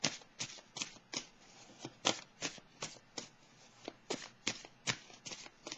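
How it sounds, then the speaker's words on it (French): A deck of tarot cards is riffled and shuffled repeatedly in quick, crisp bursts, close but soft, with an even rhythm and no speech. "Je vais piger maintenant une carte"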